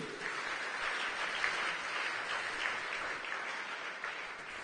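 Church congregation applauding together, a steady dense wash of many hands clapping that holds at an even level throughout with no voices over it.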